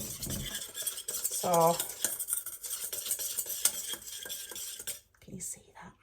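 Milk being whisked into a flour and butter roux, with close, busy metal scraping and clinking against a pan and a short spoken word near the start.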